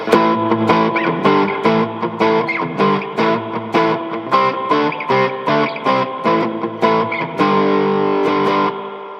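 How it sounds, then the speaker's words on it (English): Electric guitar chords strummed in a steady rhythm through a Boss RV-6 reverb pedal in spring mode, each ringing out with a washy, splashy reverb tail, loud and close. "Now that actually sounds like we got some reverb."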